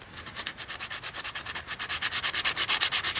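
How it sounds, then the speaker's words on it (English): Sandpaper rubbing over a dried rawhide brace on an axe handle, a close, steady series of quick back-and-forth scrapes that grow louder and more rhythmic toward the end. "I can hit that with a little bit of sandpaper"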